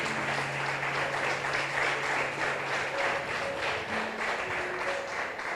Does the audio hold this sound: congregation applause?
yes